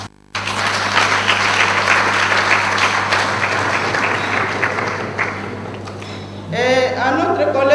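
Women applaud and cheer at a ceremony closing the Month of Women, a loud sustained burst of clapping over a steady hum, fading before a voice begins speaking.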